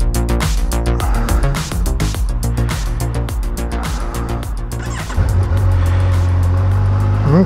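2021 Kawasaki Versys 1000 SE LT+ motorcycle engine rumbling and revving nearby, rising in pitch as it accelerates, with a louder surge toward the end, without speech.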